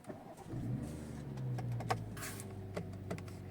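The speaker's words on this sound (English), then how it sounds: "we just jump in, start the vehicle up" A BMW X6 fitted with a CAN bus immobiliser is started with its spare key: a brief crank, then the engine catches and settles into a low, steady idle close by, fairly quiet overall.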